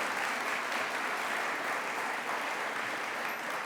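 An audience in Miami applauds for Amy Poehler with a steady wash of clapping, fairly faint and even throughout the short stretch.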